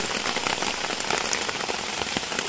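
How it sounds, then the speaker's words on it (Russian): Steady rain patters on a taut tent surface nearby, a continuous dense drumming with no voices. "Дожидаем дождик. Да, под тентом."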